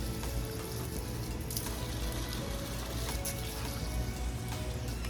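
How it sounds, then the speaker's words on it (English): Water spraying onto a garden from a hose, a steady broadband hiss with a few brief splashy bursts, fairly close and continuous, no talking. "I think this is how I'm gonna water it."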